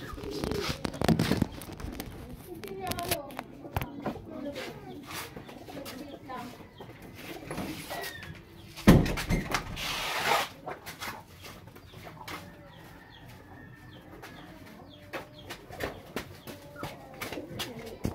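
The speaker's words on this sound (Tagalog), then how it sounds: "Magkakarga tayo ng kalapati." Pigeons coo softly and repeatedly nearby, low throaty calls scattered across the scene, with a brief burst of rustling or flapping midway.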